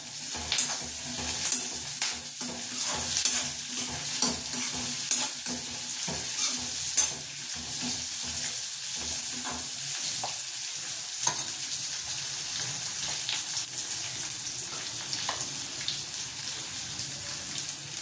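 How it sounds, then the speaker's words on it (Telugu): Chopped onion frying and sizzling steadily in a pan while being stirred, with frequent scraping and clattering stir strokes over a constant hiss, close and fairly loud throughout. "అందుకని ముందు ఆనియన్ ఫ్రై చేసుకుంటాం"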